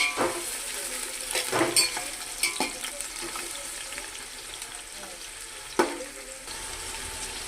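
Sliced onions frying in oil in a pan for chicken dum biryani, a steady soft sizzle close by with a few clinks of a spoon against the pan and quiet speech in the background.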